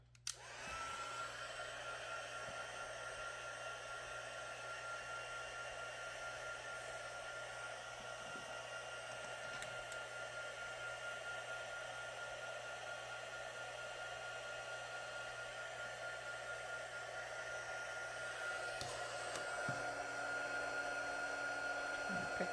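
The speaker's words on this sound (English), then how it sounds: "I'm going to turn my heat gun on and let that heat up a bit." A heat gun runs up close as a steady, loud blowing whir with a faint tonal hum, continuous for the whole stretch after a brief click at switch-on.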